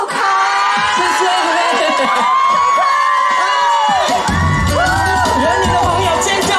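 A lantern festival crowd cheers and screams loudly as a singer is welcomed, dense whoops and shrill shouts rising over steady background noise, with voices calling out.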